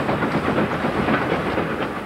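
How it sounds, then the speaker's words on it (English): A 3F steam locomotive hauling a full freight train makes a steady, loud rumble with a hissing, rattling wash of wagon noise that keeps going without a break. "a 3F could haul an entire freight train as long as it had a guard"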